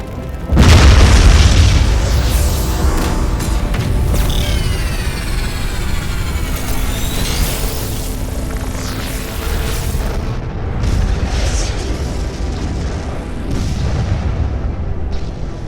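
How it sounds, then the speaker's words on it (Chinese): An electromagnetic explosion strikes a power distribution facility in an animated series. A heavy boom hits early, followed by a long rumbling roar with sweeping whines and crackling debris that slowly fades. "刚刚只是针对配电设施的电磁爆炸。"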